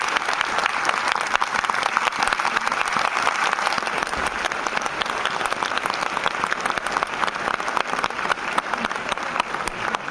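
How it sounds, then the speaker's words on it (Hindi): An audience at a motivational session gives a vigorous round of applause for the speaker's upline; dense, continuous clapping at steady loudness throughout. "एक बार जोरदार तालियां अपने अपलाइन के लिए बजा लीजिए।"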